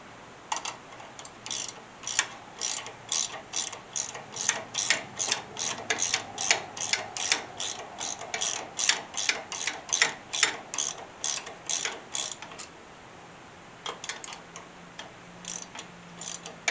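A hand ratchet tightens a bolt during a strut swap on a 2012 Mustang GT, giving a long run of rapid, even clicks close to the microphone, with a brief pause before the clicking resumes.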